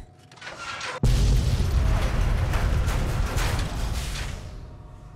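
An explosion in the video game Fallout: Tale of Two Wastelands bursts in suddenly after a quiet moment, a loud boom that settles into a rumbling roar and slowly fades over the next few seconds.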